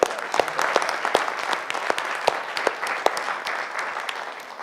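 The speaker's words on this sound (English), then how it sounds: "I think I owe you an applause." Steady applause at a business and fundraising meeting of a research and resource group: many hands clapping fairly close, with a few sharp individual claps standing out, lasting the whole stretch.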